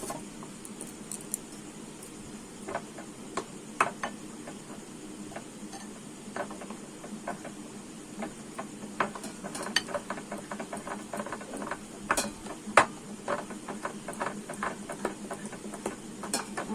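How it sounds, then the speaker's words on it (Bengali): Pitha batter for a Bengali palm-fruit patishapta being mixed by hand with small splashes of water, soft wet stirring with scattered light clinks and taps against a bowl, fairly quiet, no talking. "এবারে কিন্তু আমি অল্প অল্প জল দিয়ে মাখবো, একসঙ্গে বেশি দেব না।"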